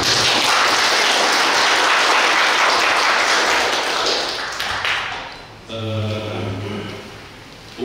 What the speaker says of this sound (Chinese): 大家来一次掌声。